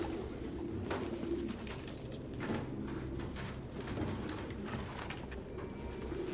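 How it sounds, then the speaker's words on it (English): Pigeons cooing in the video game Detroit Become Human, a soft, steady low murmur of several birds running continuously under a faint ambient background, with no talk. "he definitely likes his pigeons."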